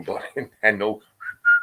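A sharp, clear whistle rings out twice near the end during a live group session, following a stretch of close talking.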